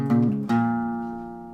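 Acoustic guitar picking the intro figure of a song: two plucked notes, the second struck about halfway through and left to ring and fade, close and clear with no voice.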